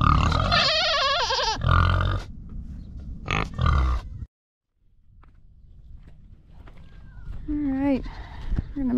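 Old Spot pigs grunt and snuffle at feeding time, with bursts of close grunts early, a brief silent gap, then quieter shuffling and further calls, mixed with footsteps and a person's voice.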